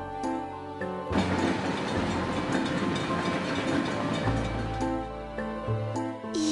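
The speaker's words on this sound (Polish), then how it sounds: "Pociąg!" A cartoon train rumbles past with a loud, sustained mechanical roar and rattling, set against a musical background, fading as it goes by.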